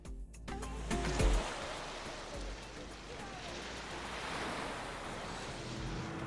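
Mediterranean surf at Menton in January rolls steadily onto the shore with a continuous broad wash, some wind rumble and a brief thump near the start.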